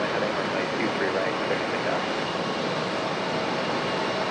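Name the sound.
Lufthansa jet aircraft at Raleigh Durham airport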